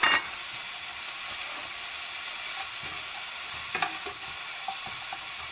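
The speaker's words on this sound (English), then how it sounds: "Then I throw in my onion." Onion sizzles and fries in bacon fat in a pan, giving a steady, close hiss with occasional stirring clicks and pops, and no talking.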